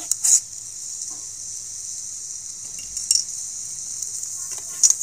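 Jaggery being stirred and heated in a pan, with a steady soft sizzle and a few sharp scrapes of a utensil against the pan, close and moderately quiet, no talking.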